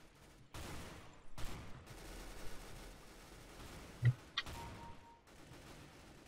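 Sawed-off shotgun blasts in a CS:GO Arms Race match: several sharp, close gunshot bursts scattered across a few seconds, with a faint game background in between.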